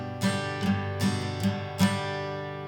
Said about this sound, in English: the strumming pattern we're going to use for this song is more of a boom, chukka, boom, chuck, like this